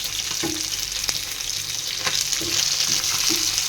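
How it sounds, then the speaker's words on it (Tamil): Fish sizzles with garlic in a hot pan, a loud, steady frying hiss with occasional spatters and soft scrapes, no voices over it. "பூண்டு போட்டு மீன்லாம் வறுத்தா நல்லா இருக்கும்"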